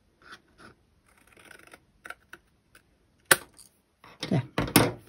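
Scissors snip across a stack of paper tags for a DIY tag art journal, giving a few faint cuts and then several louder, sharper crunching snips close to the microphone, with no talking.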